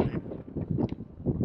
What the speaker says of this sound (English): It's a little windy right now, as you can tell by the flags.